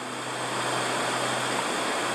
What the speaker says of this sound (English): A little splashing and bumping over the rocks over here